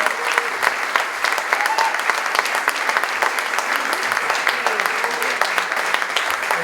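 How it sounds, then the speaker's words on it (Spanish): Steady, dense audience applause at a theatre inauguration, many hands clapping continuously and evenly at close range without letting up. "para el que pido también un aplauso enorme"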